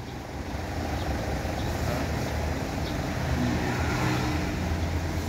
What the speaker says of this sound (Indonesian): itu posisi mobil lagi dihidupkan